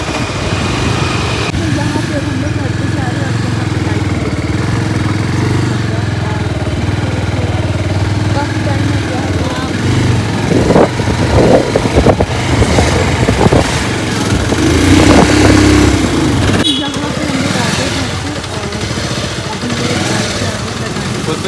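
Motorcycle engine droning steadily while riding through empty streets at midnight, a continuous mid-pitched hum with wind, while people talk over it.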